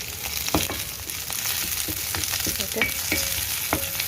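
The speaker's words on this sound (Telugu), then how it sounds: "మినపప్పు కొంచెం ఇలా వేగిన తర్వాత కరివేపాకు, నేను పచ్చిమిరపకాయలు వేస్తానండి." Curry leaves and green chillies sizzling in hot oil with urad dal while cooking ivy gourd fry, a steady crackling hiss with sharp pops and spoon scrapes; one brief spoken word.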